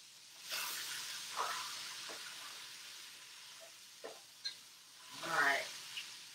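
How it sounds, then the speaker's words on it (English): Vegetables, including green beans, are tipped back into a pot with chicken and begin to sizzle, giving a soft, faint hiss that swells in a few brief bursts with light stirring clatter. "I'm just adding the veggies back into the pot"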